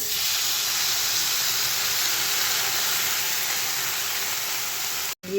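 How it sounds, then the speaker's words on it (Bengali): Fried potatoes hiss and sizzle loudly as a little water hits the hot pan, a steady broadband steam roar lasting about five seconds before cutting off abruptly. "আলু ভেজে নিয়েছি এবার দিয়ে দেবো সামান্য একটুখানি জল"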